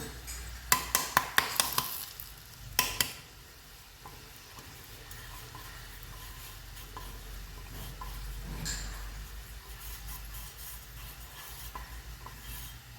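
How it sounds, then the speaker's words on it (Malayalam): A spoon scrapes and clinks against a pan several times in quick succession while stirring lemon pickle, then a soft steady sizzle continues quietly on its own. "അങ്ങനെ ഇളക്കി കൊടുക്കാം"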